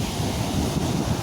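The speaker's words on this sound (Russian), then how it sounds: "Тут немного глубже, и волны здесь больше." Stormy sea surf at Liski: waves break on the beach in a continuous loud, rushing roar with wind buffeting the microphone.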